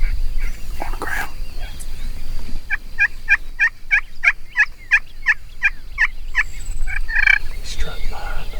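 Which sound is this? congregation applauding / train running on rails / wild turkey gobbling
wild turkey gobbling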